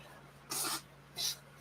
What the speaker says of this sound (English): blowing my nose